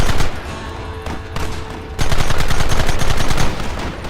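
Loud, rapid gunfire from Red Dead Redemption, with dense overlapping shots and machine-gun bursts rattling continuously, briefly thinning before a heavier volley resumes.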